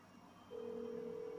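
Phone call tone from the video game Grand Theft Auto 5, a steady electronic tone that starts partway in and holds over a faint background, with no one speaking.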